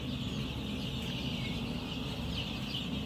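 Ten-day-old chicks in a brooder keep up a dense, steady chorus of peeping and chirping, close and continuous with no voices over it.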